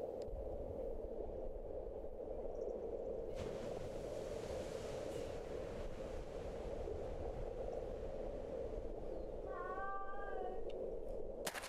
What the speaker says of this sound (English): It's the cat again.